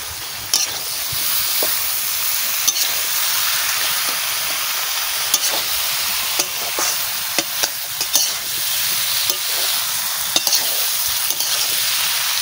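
Jackfruit fries in a pan for biryani, giving a steady close sizzle and hiss broken by frequent scraping clicks of a spoon stirring against the metal, with no voices.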